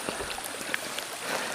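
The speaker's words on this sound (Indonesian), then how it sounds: "Jarang kita mendengar gemericik air seperti ini." A stream babbling near a waterfall in the Subang countryside during the dry season, a steady close wash of bright, hissing water with small gurgles and splashes, with no other sounds.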